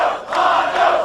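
Capacity wrestling arena crowd at a Tournament of Death championship match, chanting and roaring in loud, swelling waves that fill the hall.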